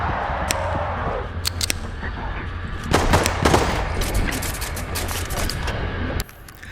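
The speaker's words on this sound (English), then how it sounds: "I have just heard someone rack their pistol and another person shooting with a different gun" In Level Zero: Extraction a pistol is racked and another weapon fires, giving sharp mechanical clicks followed by a flurry of shots, loudest in the middle, over a steady low background hum.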